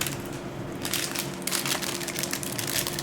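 Plastic bags from a Lego Town Hall set crinkle and rustle continuously, loud and close, with crushing, crackling bursts throughout.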